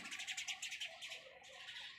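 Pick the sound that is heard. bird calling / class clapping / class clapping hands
bird calling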